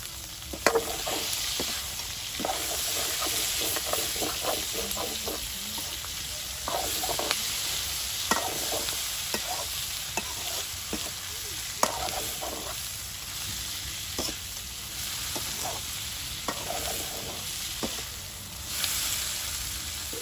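Chopped onion fries in a pan, a continuous close sizzle punctuated by repeated scraping stir strokes at an uneven rhythm throughout.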